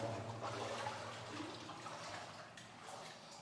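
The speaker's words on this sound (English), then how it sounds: "this is one of those places where the water comes out of the rock" Water flowing out of the rock in Hezekiah's Tunnel: a continuous, faint rushing gurgle of running water echoing in the stone passage, steady throughout with no voices.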